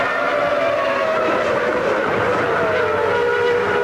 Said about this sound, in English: These Formula One engines just scream so much.